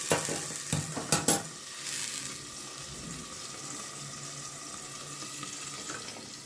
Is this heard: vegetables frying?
yes